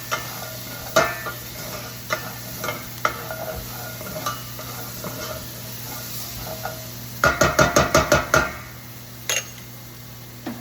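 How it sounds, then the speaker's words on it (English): Garlic and green onions sizzling in a pan for a no-red-sauce southern Italian pasta, with scattered utensil scrapes and a quick burst of rhythmic stirring clacks near the end, close and clear, no talking. "dump these green onions in. Stir that around"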